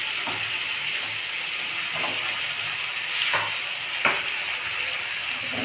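Tomatoes frying in a pan for a cluster bean curry, a steady bright hiss of sizzling with a few soft clicks and scrapes, close and continuous with no talking.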